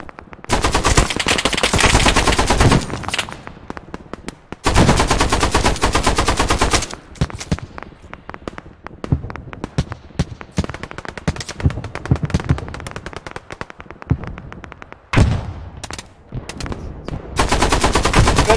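Gunfire in a military shooter game: long bursts of rapid automatic fire, loud and close, broken by short pauses and scattered single shots, then a renewed heavy burst near the end.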